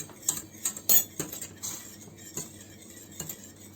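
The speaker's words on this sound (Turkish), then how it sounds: "Şimdi içerisine bir yemek kaşığı tereyağı ekleyelim ve iyice karıştıralım." A spoon stirs butter into a cooking sauce for a watermelon-style cake, giving light metallic clinks and taps against the pot, irregular and close, with soft scraping between the strikes.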